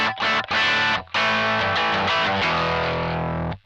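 Electric guitar played through a Sonicake EQ pedal with all the low end cut, giving a thin, distorted, bright tone; several loud strummed chords with brief gaps, the last one ringing out until it stops abruptly.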